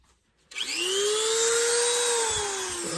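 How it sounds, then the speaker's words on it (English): A Dremel rotary tool starts after a short quiet moment and spins up to a high, steady whine. The pitch sags slightly near the end, and the sound stays close and loud with no talk. "my Dremel"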